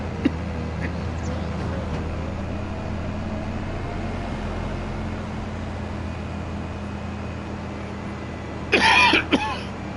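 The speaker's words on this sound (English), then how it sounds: "Sorry guys, I'm getting a cough." A short burst of coughing from a man playing Farming Simulator 25 on PS5, two or three quick close coughs near the end, over steady low game engine hum.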